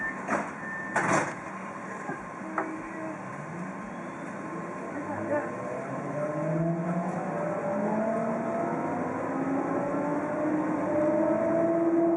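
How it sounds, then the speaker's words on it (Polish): Rising electric motor whine of a PESA 122Nal Swing tram in Łódź climbs steadily in pitch as it gathers speed, with a few knocks and rumble at the start and faint talk. "Ponownie pomiar pozwalający uzyskać takie neutralne wskazania i tramwaj przyspieszy"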